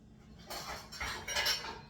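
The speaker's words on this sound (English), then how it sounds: "Now they want us to beat 2 eggs thoroughly" Two eggs whisked thoroughly with a utensil in a bowl, giving a brief burst of quick, close clinking and scraping.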